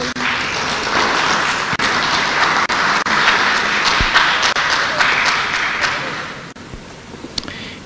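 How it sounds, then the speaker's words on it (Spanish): Attendees at a national engineering week event give the keynote speaker sustained applause, a loud, even roar of many hands clapping with a few sharp claps standing out. "Aplausos, por favor."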